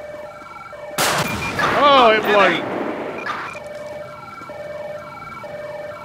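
A fire truck siren in Grand Theft Auto, a steady stepped wail heard throughout, briefly masked by a loud burst and a voice talking in the middle before carrying on alone.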